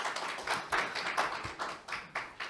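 An audience at a 2022 international gas safety seminar claps in a thin, scattered way, with separate distinct hand claps rather than a full roar, quiet and somewhat distant.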